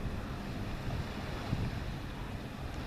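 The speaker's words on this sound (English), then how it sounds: "There's the ocean, the Aegean." Aegean Sea waves wash along the small waterfront at Armenistis on Ikaria in October, a continuous low surf rumble mixed with gusty wind buffeting the microphone, with no one speaking.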